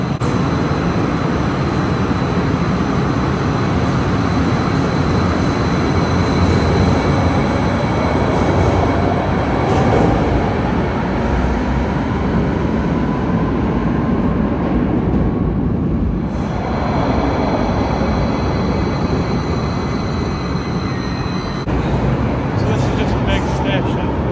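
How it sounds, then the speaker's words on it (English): A New York subway train running between stops near Military Park, with steady loud rumble and rail roar throughout, a brief dip midway and a tonal squeal near the end. "Get this train going, I guess."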